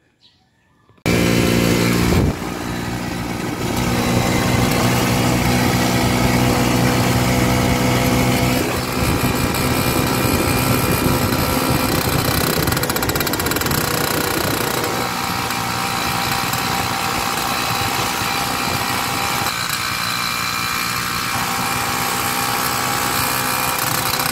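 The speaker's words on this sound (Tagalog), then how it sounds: "Yan ang ating motor." A small motorcycle engine runs steadily up close, a loud continuous buzzing drone that starts abruptly after a brief pause and holds for over twenty seconds with slight shifts in pitch.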